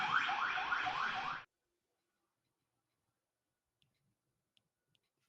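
An intermission timer alarm goes off during a tabletop role-playing session, a loud warbling electronic tone lasting about a second and a half before cutting off abruptly into near silence broken by a few faint clicks.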